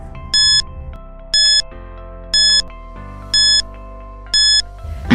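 A quiz countdown timer ticks under a steady electronic tone, then sounds five evenly spaced bright alarm beeps about one second apart, loud and clear with no talking.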